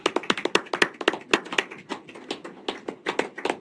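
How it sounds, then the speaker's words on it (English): Brief applause from a small crowd at a Curry County, Oregon board of commissioners meeting: close, uneven hand claps in quick succession, without cheering or talk. "One more applause."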